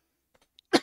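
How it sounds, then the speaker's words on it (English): A man coughs once into a close microphone during a podcast: one sharp, loud burst, preceded by a few faint clicks and small breathy sounds. "let me cough into the microphone one more time"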